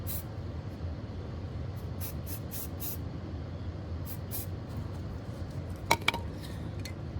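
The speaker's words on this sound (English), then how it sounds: "Just randomly spraying." Short hissing bursts of a spray gun spraying French blue glaze onto a ceramic mug puff in quick succession, then pause and repeat, with a couple of faint clinks near the end.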